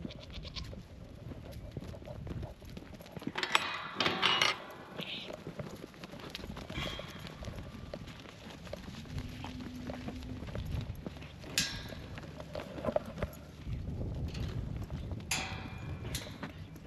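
Goats leave their enclosure after a couple of weeks shut in, with scattered hoof clatter and rustling, a few faint bleats and brief bursts of movement over steady outdoor background noise.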